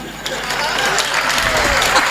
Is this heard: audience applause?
yes